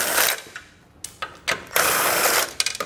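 Ratchet wrench backing out 13 mm bolts from the lower bumper brace of a 2021 Chevrolet Spark, giving several quick clicking bursts with short pauses between, close and fairly loud.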